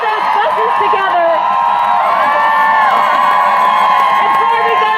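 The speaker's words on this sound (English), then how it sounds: "give yourselves a massive round of applause" Large crowd at a Montana women's march erupts into sustained cheering, whoops and shouts with scattered clapping, loud and continuous throughout.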